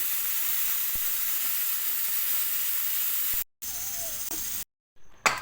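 A loud, steady hiss of venting steam from a pressure cooker cooking cucumber dal breaks off abruptly twice near the end.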